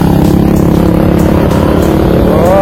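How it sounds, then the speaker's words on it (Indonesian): Loud motorcycle exhausts pass on a road near Janti Park, heard as a dense, rumbling drone up close, with a faint rising whine toward the end. "orang-orang tuh knalpotnya berisik banget sumpah"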